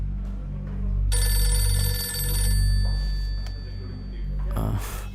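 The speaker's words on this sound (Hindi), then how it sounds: "ए, भाई ये रिंगटोन मुझे चाहिए।" A phone's electronic ringtone trills in a steady repeated pattern for a few seconds over a low background hum, then cuts off as a brief voice follows.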